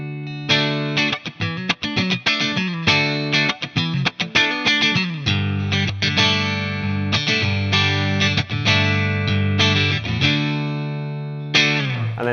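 A Fender Player Series Stratocaster is played on its middle pickup through the clean channel of a Marshall amp set to crunch. Picked notes and chords ring out with a mild edge, some sustained, with short pauses between phrases and no talking.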